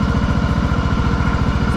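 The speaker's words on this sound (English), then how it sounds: "I can leave it idling like this, and it'll actually stay running" A John Deere Hydro 165 lawn tractor engine idles at low RPM nearby, a steady, rapid, even thumping that runs continuously and alone throughout.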